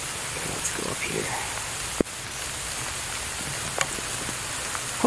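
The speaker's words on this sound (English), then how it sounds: "I know that there's lots of rain." Rain falls outdoors as a steady, even hiss with a couple of sharp knocks, and voices murmur faintly in the background.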